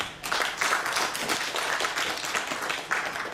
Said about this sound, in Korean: 본 심포지움을 위하여 이 자리에 오셔서 축사까지 말씀해 주신 김영선 총장님께 다시 한번 큰 박수 부탁드립니다.